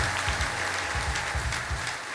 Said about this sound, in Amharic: የምታጨበጭቡ ከሆነ በጣም አጨብጭቡ።